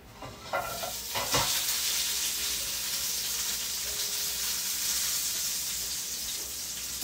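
Hash browns drop into hot bacon grease in a skillet with a brief clatter, then a loud, steady sizzle and crackle of frying that carries on without a break.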